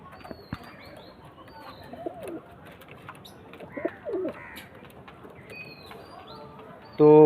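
Pigeons in a loft, with soft coos and scattered calls over a quiet background and a sharp louder noise at the very end.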